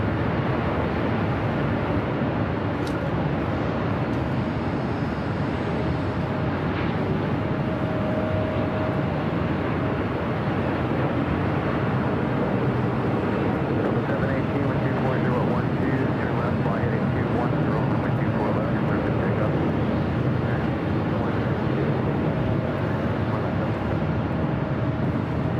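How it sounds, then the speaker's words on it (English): An Airbus A380 airliner on approach into LAX gives a steady, broad, distant roar that holds for the whole stretch, with a faint murmur of voices underneath. "Another A380 on its way in as well."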